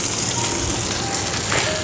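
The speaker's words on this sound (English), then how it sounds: "since you're working with bacon, which is greasy, you really don't need to put any oil" Steady, dense crackling sizzle of bacon frying in its own fat on a flat top griddle, close and continuous, with faint scraping partway through.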